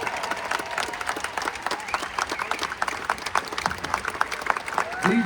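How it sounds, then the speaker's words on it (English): A theater audience at Silver Dollar City applauds veterans with steady, dense clapping and crowd noise that continues for several seconds, with a voice speaking over the applause. "Let's give them a great big round of applause."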